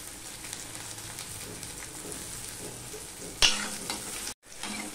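Garlic and green chillies sizzle in hot oil in a pan, a steady close frying hiss with stirring scrapes and a sharp clatter near the end before a brief silence.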